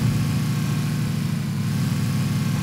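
A UAZ off-road vehicle in the PUBG video game runs its engine in a steady, loud low rumble with a constant drone throughout and no talking.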